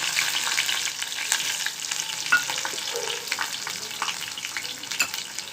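Mustard seeds, cumin, chana dal, garlic and dried red chillies fry in hot oil for a Telugu amaranth and tomato curry, a steady close sizzle with small pops and spoon clicks scattered throughout.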